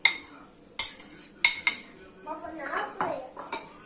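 Celery salad being mixed with yogurt in a bowl, a spoon clinking against the dish in sharp separate knocks with soft wet stirring between them, close up.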